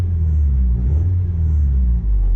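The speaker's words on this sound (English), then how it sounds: "Now it is semi-warm, so I'll give it a little bit of a rev." Porsche 944 with a new exhaust, semi-warm, idling and revved lightly, giving a deep, steady low rumble close by with slight swells in pitch.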